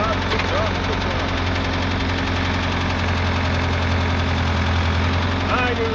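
A tractor engine labors at low RPM while pulling three-bottom transport plows, giving a steady, loud, rumbling drone with a knocking, vibrating texture throughout and faint higher creaks over it.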